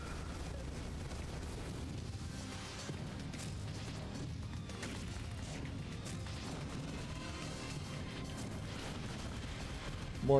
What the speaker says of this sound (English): Mortar, mortar, mortar.